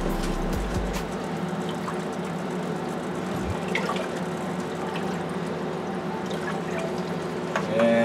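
Pickle brine for dill pickles being stirred in a pot, a steady close swishing and sloshing of liquid with a few faint clinks, no talking.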